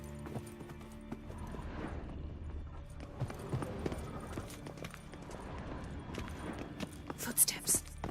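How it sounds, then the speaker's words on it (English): Footsteps draw near in The Witcher 3: Wild Hunt, steady muffled steps under a busy game soundscape of low ambience and hushed voices, ending with a couple of sharper bright clinks. "Footsteps."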